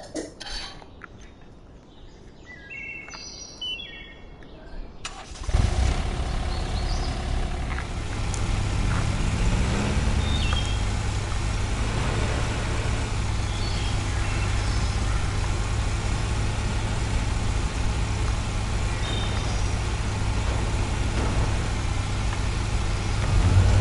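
A lawn mower engine in Lawn Mower Simulator, backing up onto a trailer: after a faint start, a loud steady motor drone kicks in suddenly and holds at an even level to the end.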